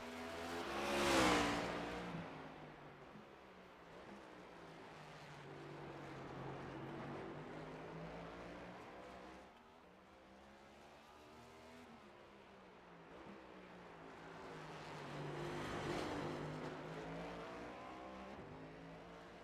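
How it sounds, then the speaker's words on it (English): A race car in a racing video game at Long Beach downshifting through the gears toward first: engine revs rise and fall in a long sweep, loud at the start and swelling again near the end, with no talk. "Down through the gears he goes. You will go all the way down to first gear"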